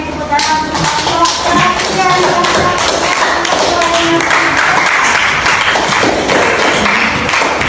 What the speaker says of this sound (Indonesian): kita beri tepuk tangan untuk kelompok